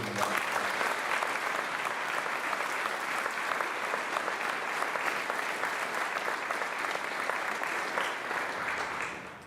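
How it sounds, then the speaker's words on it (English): A large audience applauds educators at a Class of 2021 senior scholarship ceremony, with steady, dense clapping that holds at full strength for about nine seconds before it begins to fade. No one speaks over it. "Let's give them a round of applause."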